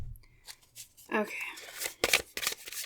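Tarot cards are shuffled and drawn in a run of crisp riffling and slapping bursts, close and fairly quiet, mixed with a person talking.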